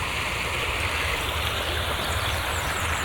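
Bee Creek flows in a steady, continuous rush of water, close and even throughout, with no voices.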